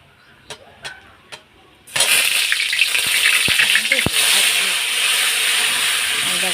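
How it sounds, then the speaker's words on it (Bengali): Spices poured into hot oil already tempered with cumin and bay leaf erupt into a loud, sudden, continuous sizzle, preceded by a few sharp taps and clinks in a quiet kitchen. "এখন আমি সব মশলাগুলো ঢেলে দেবো"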